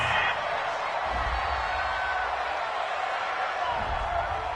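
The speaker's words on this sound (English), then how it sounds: "This home crowd, they're happy with that call." A home crowd at a football game roars and cheers after a call on third down, a dense sustained wash of voices that stays loud from start to finish.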